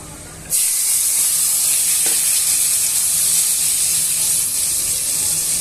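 Onion and green chili pieces for tamarind pulihora fry in a hot pan, a loud steady sizzle and hiss that starts abruptly as they go in and holds on without letup, close and alone.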